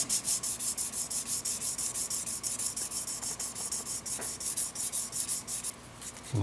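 Fine 1500-grit sandpaper rubbed over a 2003 Mexican-made Fender Stratocaster, a soft rhythmic scratchy back-and-forth of even strokes, close and quiet, with no voices.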